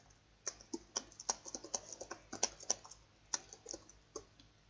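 Quick, uneven clacking of keys on a computer keyboard, close up, with clustered taps and short pauses; no voices.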